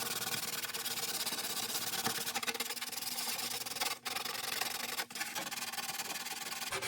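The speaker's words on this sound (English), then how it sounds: "So I'm gonna use just hand sandpaper." Sandpaper rubs by hand over wood in a steady, quiet scratching hiss, with two short pauses between strokes, working along a wooden edge in a workshop.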